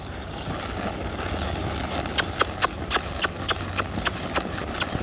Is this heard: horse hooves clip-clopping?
yes